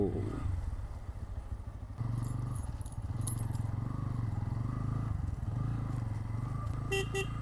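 A motorcycle rumbles steadily along a rough rural road near Belpahari, engine drone close and continuous with wind buffeting, a short horn toot near the end.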